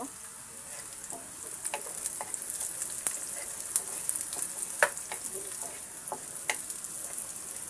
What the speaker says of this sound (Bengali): রসুন কুচিটাকে আমি সুন্দর করে ব্রাউন কালার করে ভেজে নেব